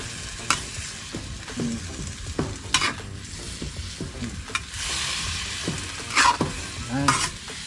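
Papaya sizzles in a hot pan while a utensil stirs and scrapes against it in irregular bursts, fairly close and moderately loud.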